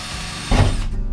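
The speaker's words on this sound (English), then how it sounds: "Why am I drilling holes in it?" A power drill whirs while boring holes through a van's metal roof, a close mechanical burst that starts abruptly midway, then eases to a lower grinding whine.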